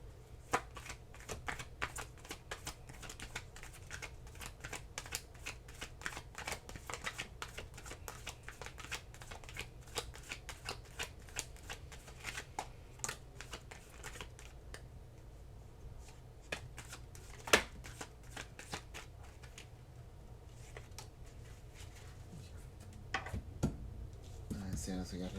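Tarot cards are shuffled for a long stretch, their quick riffles and soft flicks pattering close and steady while a voice talks quietly at times.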